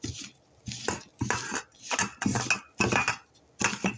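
Hands or a utensil work sawabe zeinab dough in a bowl, soft close clinks and sticky stirring strokes in uneven bursts with brief gaps.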